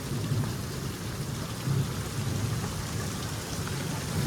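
Heavy rain pours in a dense, steady hiss, with a few faint low rumbles of thunder underneath; no voices are heard.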